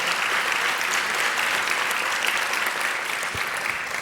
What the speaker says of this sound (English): Let's give all of them a wonderful round of applause.